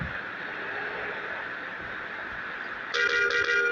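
In the video game Bus Simulator Indonesia, a bus horn sounds a short, bright honk near the end, cutting over a steady background hum of the driving scene.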